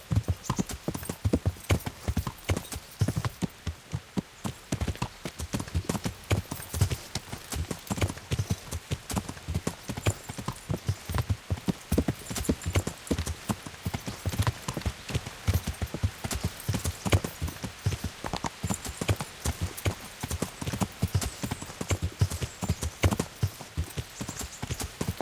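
Horse hooves clip-clopping steadily downhill in the medieval game Kingdom Come: Deliverance, a continuous close rhythm of hoof strikes throughout.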